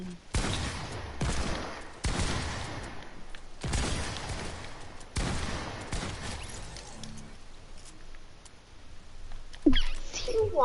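Video-game gunfire from a pump shotgun, Deagle and AR, loud blasts and short bursts repeating every second or two, heavy at first and then thinning into quieter scattered shots.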